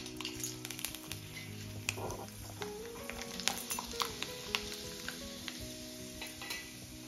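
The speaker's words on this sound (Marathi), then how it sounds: "सोनेरी रंगावरती वेपर्स तळून घ्यायचे" Thin potato wafers fry in hot oil over a low flame, giving a steady, close sizzle with scattered crackles and faint pan and stirring clinks throughout.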